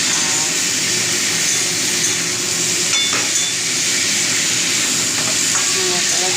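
Spices and a fried fish head sizzle and hiss loudly in a hot pan, with occasional scrapes of stirring cutting through the constant frying noise; no talk.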